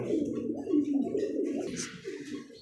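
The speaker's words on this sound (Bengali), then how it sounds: "এখানে দেখতেছি সুপার কোয়ালিটি এক জোড়া হচ্ছে ফ্যান্ডেল কবুতর" A pair of fantail pigeons coo softly and close by, a low repeated burbling call rolling on for a couple of seconds with no voices.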